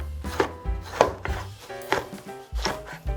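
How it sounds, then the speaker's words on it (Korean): Knife dicing tomatoes on a cutting board for a tomato-egg curry fried rice, a steady series of sharp chops about every half second, close and clear with no talking. "사이즈가 작은 거여서 2개 까뚝 썰기 해줄게요"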